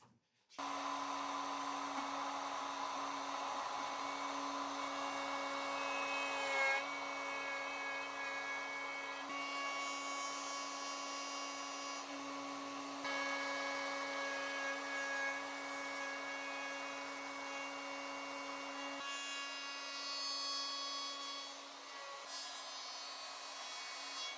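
A plugged-in power tool cuts a one-inch mortise into wood, producing a steady, quiet motor whine with a constant droning pitch that runs for the whole stretch and shifts only slightly, with no voices.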